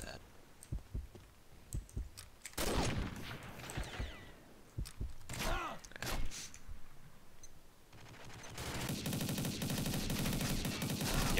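Gunfire in the online shooter Combat Arms, with scattered sharp shots and clicks early on and a sustained burst of automatic fire near the end. A player talks over parts of it.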